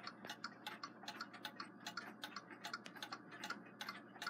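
Close, quiet ticking from the exposed movement of a Waterbury triple-decker chiming clock, a fast, even run of crisp ticks continuing steadily with no other sound.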